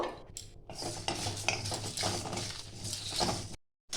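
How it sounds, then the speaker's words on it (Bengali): Fennel, coriander, cumin and nigella seeds are stirred while dry-roasting in a pan for a jujube pickle, a busy scraping and rattling of spoon and seeds against metal that stops abruptly near the end. "এগুলো ভালো করে আমি নেড়ে ভেজে নেব"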